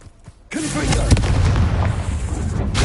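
A Confringo spell detonates in Hogwarts Legacy: after a brief quiet lead-in, a loud, booming explosion bursts in at once and rolls on as a sustained, rumbling roar with a crackling tail.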